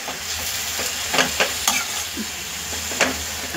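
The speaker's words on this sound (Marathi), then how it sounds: "आता ही व्यवस्थित आपण तेलामध्ये मिरची आणि कांदा तेलामध्ये परतून घेऊया" Green chili and onion stir-fried in oil in a wok, a steady close sizzle broken by sharp scraping stirs, with no one talking.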